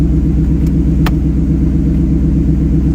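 Coyote-swapped SN95 Mustang V8 engine holding a steady, loud rumbling idle-to-rev drone up close, continuous for a few seconds with a couple of faint clicks and no talk.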